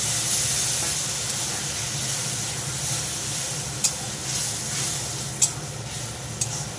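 Wet spice paste of ground cumin and coriander sizzling steadily in a hot pan as water is added for a fish skin curry with potato and eggplant, a continuous close hiss with a few sharp spatters and stirring, no voices.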